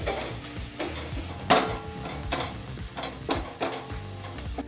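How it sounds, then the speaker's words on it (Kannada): Onions sizzling in a pan over a low flame for a wedding-style beans and green gram stir-fry, with steady frying hiss broken by several distinct scrapes and clinks of stirring. "ನಾವು ಒಂದು 2 ನಿಮಿಷಗಳ ಕಾಲ ನೀಟಾಗಿ ಲೋ ಫ್ಲೇಮಲ್ಲೇ ಫ್ರೈ ಮಾಡ್ಕೋಬೇಕಾಗತ್ತೆ"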